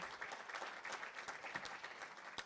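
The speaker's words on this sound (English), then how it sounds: "Let's give them a round of applause again." An awards-event audience gives a round of applause, a steady, even patter of many hands clapping throughout, moderately distant.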